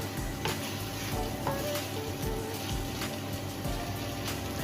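Rice stir-fried with tuna and egg in a pan, sizzling steadily and close, with repeated scraping and stirring strokes and light clatter from the pan.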